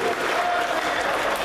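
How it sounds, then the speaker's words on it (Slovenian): An audience claps for a children's team coach from Krško at a sports event, dense steady applause throughout, close and loud. "Prosim, aplavz in da dvigne roko."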